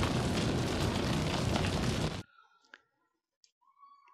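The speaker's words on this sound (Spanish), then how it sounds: "lanzamos la bola de fuego y veis lo que pasa" A fireball spell explodes in the VR role-playing game Ruins Magus with a loud, roaring blast that runs for about two seconds, then cuts off abruptly into near silence broken by a few faint clicks and a soft tone.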